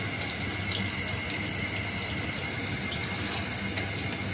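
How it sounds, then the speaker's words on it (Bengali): Hot water poured in a small amount into chicken curry in a cooking pot, a steady hissing, bubbling splash that carries on evenly throughout, close and moderately loud, with no voices. "এবার দিয়ে দিচ্ছি অল্প পরিমাণ গরম জল"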